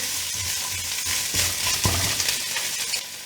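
Carrot and cabbage sizzle in a single pan while being stirred, a steady close frying hiss broken by a few scraping strokes of the spoon.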